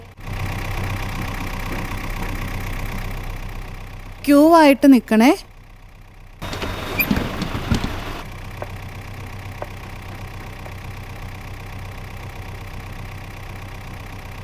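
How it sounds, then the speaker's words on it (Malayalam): A school bus idles as it pulls up, its engine a low, steady hum running through the whole stretch, with people talking over it and a brief louder burst partway through. "ദേ വണ്ടി വരുന്നല്ലോ, 2 പേര് റെഡിയായിക്കേ."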